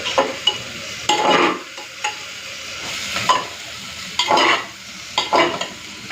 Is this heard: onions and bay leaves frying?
yes